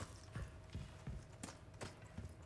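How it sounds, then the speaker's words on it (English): Player-character footsteps from the Resident Evil 4 Remake video game: a steady run of dull, thudding steps with crisp transients, about five or six across the stretch, fairly close and alone against a low game ambience. "That's our footsteps, I think."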